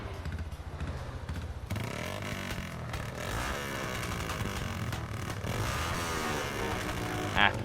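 Motorcycle engine revving hard in GTA San Andreas, a steady rough roar with rising surges, loud and continuous with clattering mechanical texture throughout.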